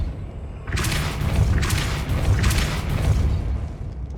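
Three heavy blasts of the Depulso spell in the video game Hogwarts Legacy, each a booming, whooshing burst about a second apart, fairly loud and close with nothing else over them.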